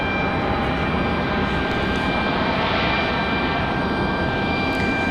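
Airliner engine roar at Raleigh-Durham International Airport, a steady, loud broadband rumble with a whining tone on top, holding constant throughout with no voices.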